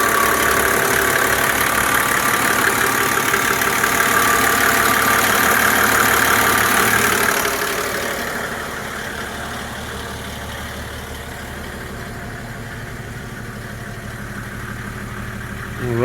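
An OM606 diesel engine swapped into a Volvo 240 idles steadily and loudly with a rough, clattering drone, easing slightly quieter partway through and running on evenly, with no talk.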